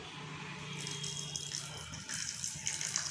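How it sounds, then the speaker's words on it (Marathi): Water is poured into a pot of sugar for syrup, a soft steady trickle and gurgle with a faint rattle close by, quiet and uninterrupted. "साखर भिजेल एवढं पाणी घालायचं आहे।"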